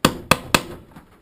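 Holes are punched through a fur hide for a coonskin cap, three sharp close knocks in quick succession, each fading quickly, then a fainter fourth.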